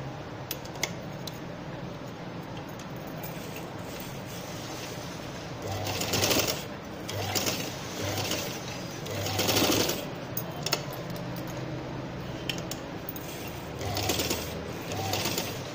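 A sewing machine stitches a clip onto an elastic belt in short bursts of whirring, running nearby against a steady low background hum, with pauses between the runs.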